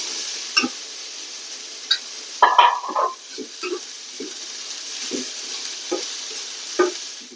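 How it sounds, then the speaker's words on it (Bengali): Onions frying in a pan for a mashed bharta dish, a steady soft sizzle broken by clattering stirs and scrapes at irregular intervals, close and moderately loud, no voices. "পেঁয়াজটা ভাজা হয়ে গেল"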